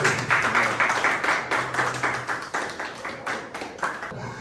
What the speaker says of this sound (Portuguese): Aplausos aí pro Márcio